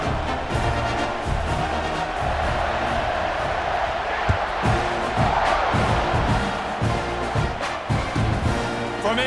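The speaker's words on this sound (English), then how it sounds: "this crowd is buzzing after that last score." Stadium crowd buzzing in the NCAA 26 college football video game, a loud continuous roar of cheering voices after a score, steady throughout.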